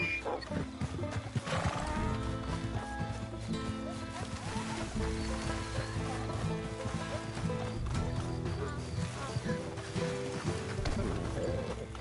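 Horse neighs and snorts with hoofbeats in the Red Dead Redemption 2 video game, set against a steady dense layer of game ambience and music.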